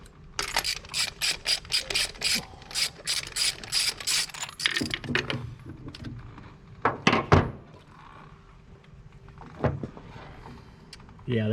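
A hand ratchet clicks in quick bursts while spark plugs are changed on an M151A2 Jeep, followed by a few scattered clunks and softer tool handling noises close by.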